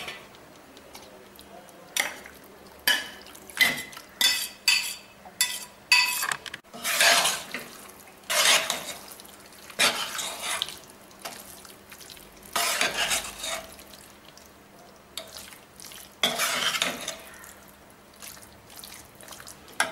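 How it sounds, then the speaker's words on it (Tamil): Chicken going into a pan for Chettinad pepper chicken and being stirred: irregular clinks and scrapes of a metal spoon against the pan, some louder bursts of frying, with quiet gaps between. "இப்போ நம்ம சிக்கனை சேர்ப்போம்."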